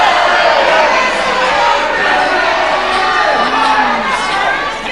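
Boxing crowd at the Civic Hall, Guildford, cheering and shouting in a dense, steady roar of many voices, loud throughout and fading slightly at the end.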